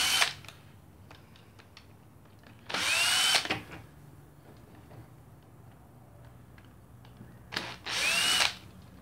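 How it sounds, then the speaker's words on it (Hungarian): A power drill unscrews screws from the drain pump of a Panasonic washing machine in two loud, close whirring bursts a few seconds apart, with quiet handling noise between them. "tekergessük ki a csavarokat."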